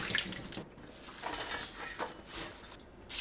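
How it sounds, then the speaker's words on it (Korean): Chili pepper leaves rinsed in a basin of water, with soft splashing and trickling that swells and fades in short bursts, close up and alone. "물에 헹궈주세요."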